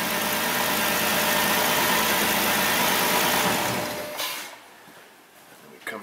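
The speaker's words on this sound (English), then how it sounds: "I'm going to go ahead and shut the car off." A steady car engine idle rumbles loudly, then the car is shut off and the sound fades away, leaving near quiet with a faint click at the end.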